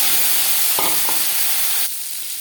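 Panch phoron, dried chilli and raw mango frying in hot oil for dal, a loud steady sizzle with a few stirring scrapes, then the hiss drops abruptly quieter near the end.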